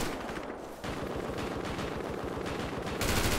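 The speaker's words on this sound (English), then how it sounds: "I hear lots of gunfire" Heavy gunfire in a multiplayer roleplay video game, rapid automatic bursts rattling continuously with dense overlapping shots, loud and sustained throughout with no talking.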